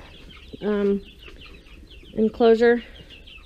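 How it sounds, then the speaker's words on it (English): Meat chickens clucking in their farm enclosure, two short bursts of near, moderately loud calls with a voice speaking in between. "So this is the meat birds."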